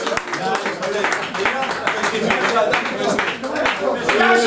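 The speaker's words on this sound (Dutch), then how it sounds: "Mag ik de tweede naar voren komen en een applausje voor de tweede?" At a reunion of the Dutch sports club Sportlust '46, the audience claps for the second-place winner: sharp, scattered hand claps that continue steadily under loud overlapping voices and chatter.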